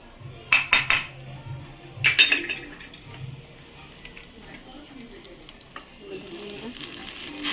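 Two spoons of ghee sizzling with whole dried red chilies, cumin seeds and bay leaves, with bursts of metal spoon clinks and scraping against the pan early on, then a quieter crackle while a voice talks intermittently.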